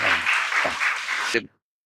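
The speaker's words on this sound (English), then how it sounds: "Give an applause for him." A burst of audience applause, dense clapping from many hands that cuts off abruptly after about a second and a half.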